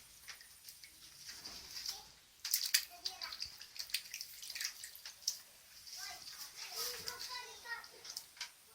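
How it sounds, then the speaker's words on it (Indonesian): Sliced jackfruit is washed in water for Acehnese kuah pliek u, with soft splashes and drips close by under quiet background talk. "kemudian nangka kita cuci"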